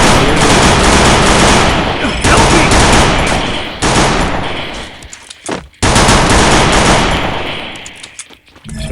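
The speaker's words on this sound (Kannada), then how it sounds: "ಸೊ ಹೆಡ್ ಶಾಟ್ ಬೇರೆ ಹೊಡ್ತಿದ್ದೀನಿ, ಡ್ಯಾಮೇಜ್ ಕೊಡ್ತಿದ್ದೀನಿ" Rapid automatic gunfire in the video game Counter-Strike, loud sustained bursts of shots close up that cut off briefly, resume, then trail away, with speech faintly underneath.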